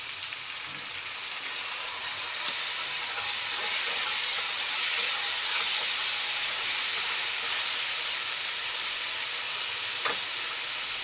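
Chopped tomatoes hiss and sizzle steadily in a pan of browned ingredients while tomato gojju cooks, a loud, continuous frying crackle with only faint stirring knocks beneath it.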